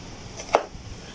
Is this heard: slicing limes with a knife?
yes